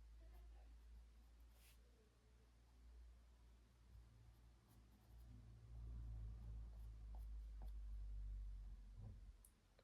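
Dry pastel scratches softly across paper in faint, intermittent strokes while rocks are being drawn, heard alone in a very quiet room.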